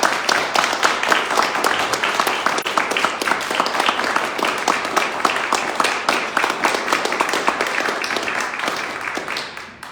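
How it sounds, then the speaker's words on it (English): An audience applauds the panelists at the close of a panel discussion on witchcraft exoneration; a steady round of many hands clapping continues evenly for about ten seconds with no pause. "please join me in giving these great panelists a round of applause"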